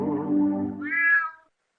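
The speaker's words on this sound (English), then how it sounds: "Let's hear the kitty cat." A cat meows twice in quick succession, first a lower drawn-out cry, then a higher, shorter call, close and clear against silence.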